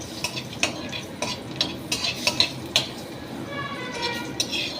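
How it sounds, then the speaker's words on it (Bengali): A pan crackles with a low sizzle as washed cashew nuts fry over low heat while a utensil repeatedly taps and scrapes against it in an uneven rhythm. "কটা কাজু বাদাম ধুয়ে এই ভাজতে দিয়ে দিলাম"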